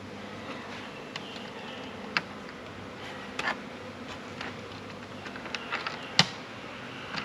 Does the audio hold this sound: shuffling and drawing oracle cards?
no